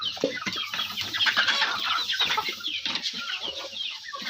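Egg-laying hens in a small backyard coop give off a steady stream of close clucking and chattering, with many birds overlapping throughout and no pauses.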